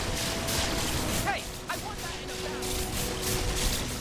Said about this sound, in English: I didn't hear you over all the explosions right now